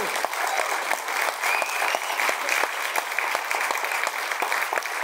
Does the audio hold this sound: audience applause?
yes